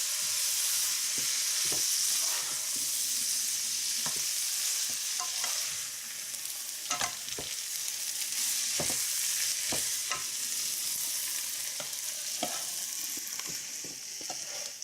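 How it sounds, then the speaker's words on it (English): Noodles stirred into a sizzling shrimp stir fry, with a constant loud frying hiss throughout and regular scraping and tapping of the utensil against the pan, close up with no speech. "I'm going to put those in there. And we're going to stir that up a bit."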